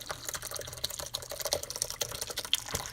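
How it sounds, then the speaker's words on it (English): Ricotta whey poured through cheesecloth into a strainer over a bowl, a close trickling, splashing pour with irregular drips and small knocks. "Now we're just supposed to pour the rest through."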